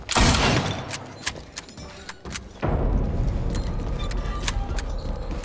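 Gunfire in the Silent Hill 2 Remake video game, a loud opening burst followed by several sharp separate shots, then a sustained rumbling noise bed with more scattered cracks.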